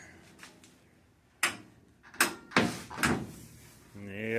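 The stiff door of a 1975 VW Super Beetle gives several close clunks and rattling knocks as it is worked, followed by a short stretch of speech.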